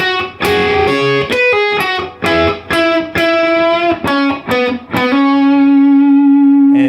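Distorted electric guitar playing line three of a song's solo, including double stops: loud, close string of sustained overdriven notes and bends, ending on a long ringing held note, alone.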